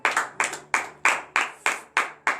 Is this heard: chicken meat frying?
no